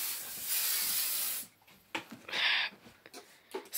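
Wrinkle release spray is sprayed from a bottle indoors, a long loud hissing burst for about a second and a half, then several shorter sprays at close range.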